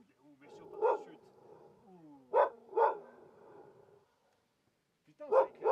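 A dog barks in short bursts, two or three sharp nearby barks separated by pauses, with someone speaking French over and between them.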